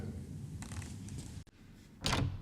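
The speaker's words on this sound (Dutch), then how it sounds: "Deurklink openen." A door handle is pressed and released, giving a short mechanical creak and click, then a brief louder rattle near the end as the latch opens, recorded close in a quiet room as a sound effect.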